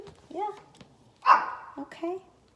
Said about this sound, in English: That's our dog Gypsy barking in the background